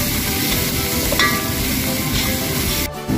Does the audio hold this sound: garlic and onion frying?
yes